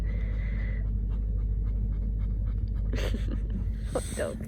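Dog panting on a hot sunny afternoon at a horse trials event, a steady rhythmic breathing close by over outdoor background noise, with brief clatters and other sounds near the end.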